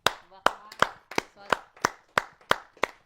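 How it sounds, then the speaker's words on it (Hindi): An audience at a Hindi kavi sammelan claps to welcome a senior poet, sharp hand claps landing in a slow, fairly regular beat of about eight strikes, close and distinct with brief decays between them. "स्वागत करते हैं आप सबकी जोरदार तालियों से"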